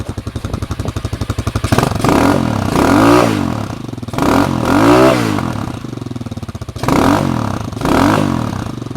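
Taomotor TBR7 (Hawk) enduro motorcycle with a CG250 engine and its catalytic converter removed, idling with a fast, even pulse, then revved hard in three loud, close throttle bursts separated by brief drops back.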